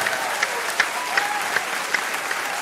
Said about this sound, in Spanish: Un aplauso para Anubis